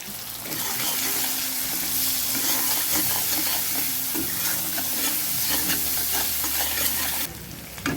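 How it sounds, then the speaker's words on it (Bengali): Onions lightly frying in a pan with salt and a little turmeric, a steady close sizzle under repeated scraping stirs of a spatula, continuous for several seconds before the hiss drops away near the end. "এটাকে পেঁয়াজটাকে একটু হালকা করে ভেজে নিয়ে তারপরে কিন্তু ডালটাকে সেদ্ধ করব।"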